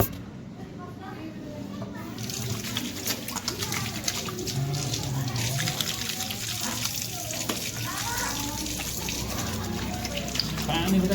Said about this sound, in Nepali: हात धुनु पऱ्यो